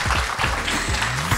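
An audience applauds at the stage greeting of a Japanese film premiere screening, a brief dense wash of clapping with faint voices underneath.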